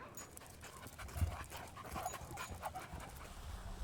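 A half Rhodesian ridgeback, half boxer dog pants steadily close by in an outdoor setting, quick rhythmic breaths continuing throughout with no talking.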